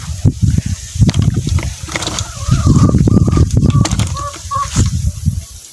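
Chickens cluck and squawk close by with scattered wing flaps and scratching, a busy backyard flock of hens and a stag rooster sounding in irregular bursts.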